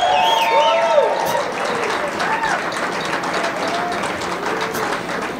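Audience round of applause for two bands at a live music session, a steady, full wash of clapping from a crowd at moderate distance, with some whistles and cheers riding over it and holding roughly level throughout.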